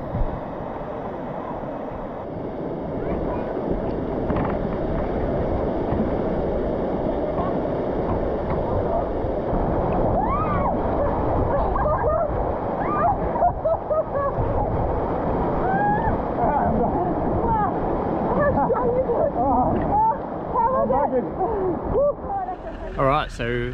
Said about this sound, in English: we're going to get closer to the waterfall